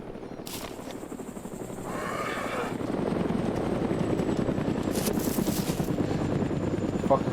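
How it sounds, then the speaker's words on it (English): A helicopter in the video game DayZ flies nearby with a steady, loud rotor thrum that swells over a few seconds and then holds, while faint voice-like sounds sit underneath. "Sounds like that heli's doubling back."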